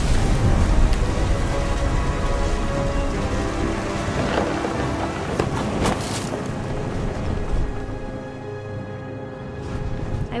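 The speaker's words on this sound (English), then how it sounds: "The thunder sounded much too close and full of angry power." Heavy rain pours steadily while deep thunder rumbles and swells nearby in the video game What Remains of Edith Finch, the storm slowly easing toward the end.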